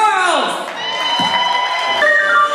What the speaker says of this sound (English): Big, big round of applause for Young Prince Charles.